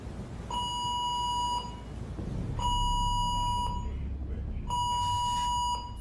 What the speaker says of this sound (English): We got also fire alarm activated, cabin 54.